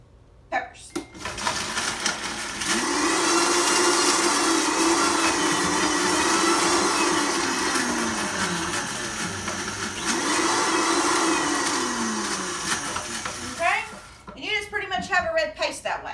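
A kitchen blender whirs loudly while blending dried peppers and tomato into a salsa paste, running steadily for about thirteen seconds with a dip in pitch midway, then stopping as a person begins speaking.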